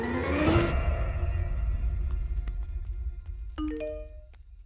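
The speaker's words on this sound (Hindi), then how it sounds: "घंटी मिक्स कॉलिंग बेल।" A bell rings out and blends with a chiming doorbell, several bright tones sounding in sequence after a brief whoosh.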